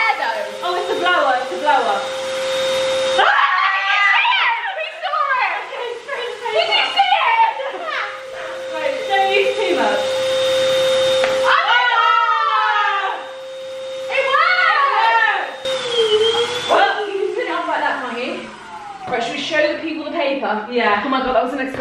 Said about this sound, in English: No, it's just the air though. Oh, it's a blower